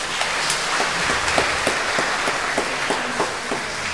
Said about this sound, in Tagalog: Palakpakan po natin ang Panginoon.